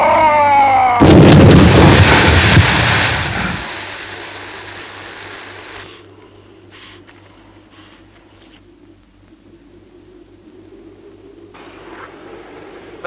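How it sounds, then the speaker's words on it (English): A gas grenade bursts in a science fiction film, a loud roaring blast with crackling debris lasting a few seconds after a rising whine, then fading to a low hum and scattered faint rumbles. "I'll try a gas grenade."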